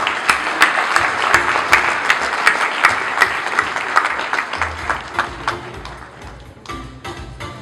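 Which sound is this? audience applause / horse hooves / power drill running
audience applause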